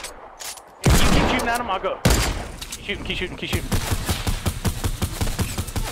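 Rapid gunfire in Fortnite Battle Royale, a steady stream of loud, close shots running under players talking.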